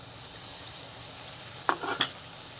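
A little water goes into spice masala frying for a rohu fish curry, giving a steady sizzle that erupts into two quick bursts of hissing splatter.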